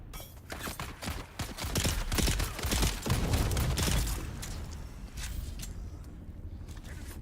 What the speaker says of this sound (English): Someone's throwing grenades around here